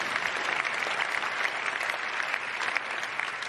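An audience at the Laureus World Sports Awards ceremony in Madrid gives a burst of sustained applause, many hands clapping together in a full, even wash with no talk.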